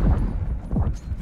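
A frag grenade blast in Call of Duty Black Ops 6, heard as a couple of deep rumbling booms with low swooping tails, close and fairly loud.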